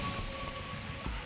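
Steady rain falls on leaves in a jungle, a dense close patter of drops throughout, with no one talking.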